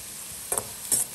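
Tempering ingredients fry in oil in a pan, giving a steady soft sizzle with two brief louder crackling bursts over about a second, heard close and alone.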